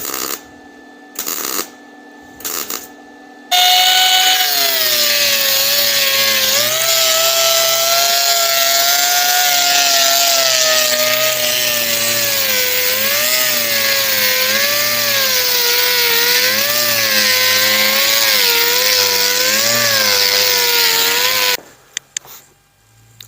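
Power sanding and grinding of a weld bead on a 1968 Pontiac GTO trunk lid: after a few short starts, a loud sustained whining grind with a wavering pitch runs for about eighteen seconds, then winds down.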